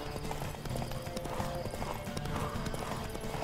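Horse hooves gallop in a steady clip-clop rhythm throughout a race in The Witcher 3, with occasional whinnies over a dense game soundscape, loud and close.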